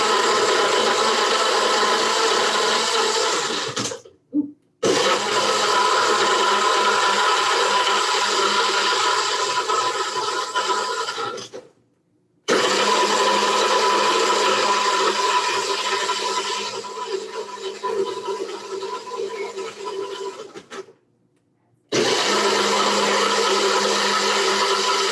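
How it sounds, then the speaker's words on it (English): A countertop blender runs long and loud, whirring through a coconut coffee smoothie made with frozen coffee cubes. A steady grinding roar with a faint rattle is cut by three brief pauses where the motor stops and restarts. "it's gonna get loud again."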